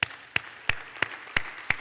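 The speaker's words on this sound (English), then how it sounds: "Let's clap our hands to the Lord." Six sharp hand claps from a church congregation in a slow, steady rhythm, evenly spaced, with a faint roomy background between them.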